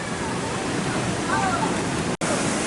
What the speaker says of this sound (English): It's really kind of interesting how this waterfall works.